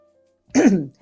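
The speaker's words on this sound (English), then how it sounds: "I'm like trying not to cough in your guys' ear" A single short throat-clearing cough from a person on a live stream, close and loud, following a moment of near silence and trailing off quickly.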